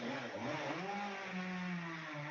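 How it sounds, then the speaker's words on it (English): A chainsaw revving outside, heard at a distance as a steady droning engine whine that shifts in pitch, running continuously under a quiet room during a lecture. "As the chainsaw starts up again."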